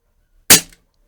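A single sharp shot cracks from a Snowpeak PP750 PCP 4.5mm air rifle, loud and close, with a quick decaying tail and silence around it.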